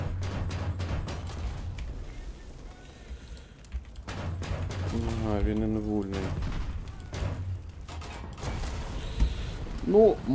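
Repeated sharp tank cannon blasts boom in War Thunder game audio with a low rumble underneath, several shots spaced over the clip and louder bursts near the end.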